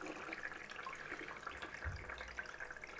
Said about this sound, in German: jetzt befüllen wir das Ganze nochmal mit reinem Wasser, bei uns Osmosewasser